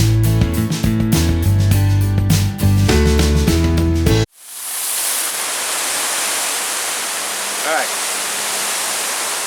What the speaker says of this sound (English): I'm going to simply just hose this cartridge down.